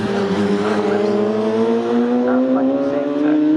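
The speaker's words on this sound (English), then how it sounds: "the Radicals are once again accelerating just for a brief moment out of corner" Radical race cars accelerating out of a corner at Snetterton, engines rising steadily in pitch under a loud, sustained roar, close and continuous for the whole stretch.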